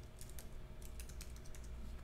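Soft, rapid tapping of keys on a computer keyboard, an uneven stream of light clicks at low volume with no voices.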